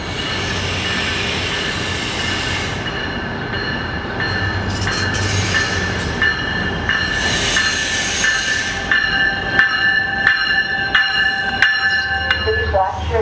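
A VRE commuter train rolls past up close with heavy rail rumble, clattering wheels and high metallic squeals, while a recorded announcement plays over the noise.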